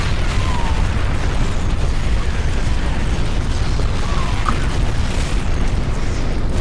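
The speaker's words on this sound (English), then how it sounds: "He just keeps firing acid." Acid attacks fired again and again by a boss in a StarCraft arcade game, a dense, continuous rumble of bursting, booming impacts that stays loud for the whole stretch with no voices on top.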